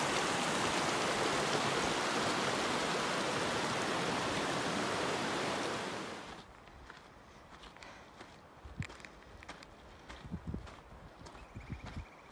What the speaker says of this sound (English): Another little stream crossing where I pray I don't eat it.